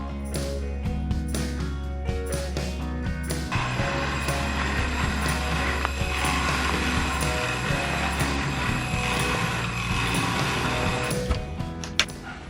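Homemade 5-axis CNC machine cutting parts in a small room, a continuous loud mechanical whir and grind with a deep steady hum and occasional clicks, no voices.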